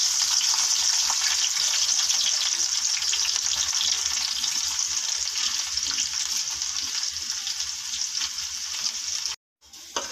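Garlic sizzling in hot mustard oil, about half a cup, for a tempering over sarson ka saag; a loud, steady, close crackling hiss that runs continuously before cutting off abruptly near the end.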